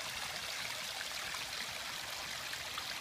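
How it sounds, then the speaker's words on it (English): Water from a waterfall streams steadily, a soft continuous rushing wash with no other sounds. "Sitting by the good old waterfall."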